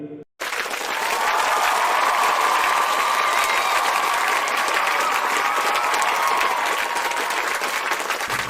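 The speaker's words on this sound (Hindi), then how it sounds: "आपकी जोरदार तालियों के बीच में, जोरदार किलकारियों के बीच में मैं कॉल करने जा रहा हूँ मिस अंजू विरोधिया।" An audience at an RCM business celebration event breaks into sustained, loud crowd applause that starts abruptly and holds evenly for about eight seconds as thick, continuous clapping.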